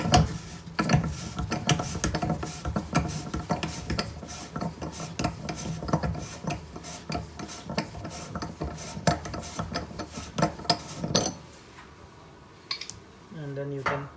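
An old bathtub drain is twisted loose, giving a dense run of metallic ratcheting clicks and scraping, close and fairly loud, easing into a few sparse clunks near the end.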